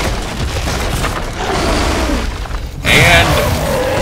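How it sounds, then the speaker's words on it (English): A rocket launcher blast in the Shadow Warrior video game, heavy booming and crackling explosion noise, with a sudden loud burst near the end, over game sounds and a voice. "Rocket launcher it up."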